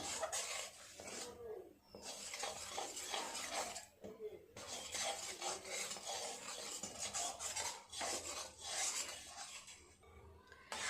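Milk powder being stirred into thickening milk in a metal pan with a spoon, heard as repeated scraping and rubbing strokes broken by short pauses, faint and close.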